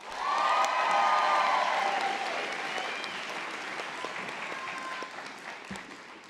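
Applause, cheering and whoops fill a hall at a nursing convocation, loudest at the start with shouted cheers over the clapping, then settling into a steady, slowly fading ovation.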